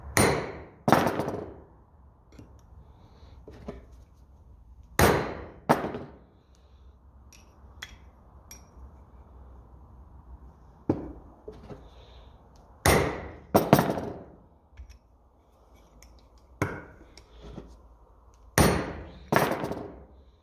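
Hammer taps on a 1950 Lucas D3A4 distributor from a Ferguson tractor, struck in spaced pairs and small clusters of sharp metallic blows with quiet pauses between, close and fairly loud with no voices.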